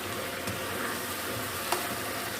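Tomatoes and green chillies go into keema frying in a pan, giving a steady, close broadband sizzle with a faint stir or clack partway through and no voices.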